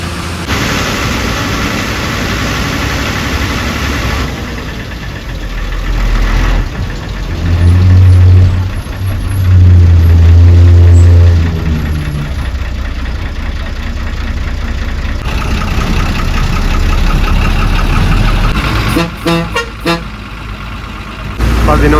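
A bus engine drones loudly while climbing the Valparai ghat road from Pollachi, growling harder in the middle before easing back to a steady run, with a few brief sharp noises near the end.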